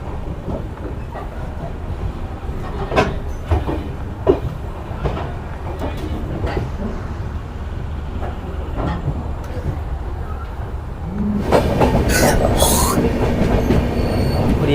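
The Dehradun Tanakpur Express (15019) rolls along the tracks with a steady rumble and rhythmic clickety-clack of wheels on rail joints, heard from aboard, growing louder and harsher near the end as it passes beneath another railway line.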